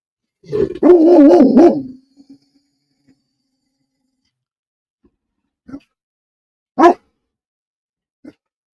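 A dog gives a long, excited bark-howl up close, then after a pause several single, sharper barks ring out at intervals in an otherwise quiet setting.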